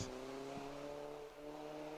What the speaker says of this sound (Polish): teraz już Audi RS3 WRC, czyli samochód przygotowany przez jednego z naszych sponsorów, firmę Evo Dynamics i Rafał Czerwik.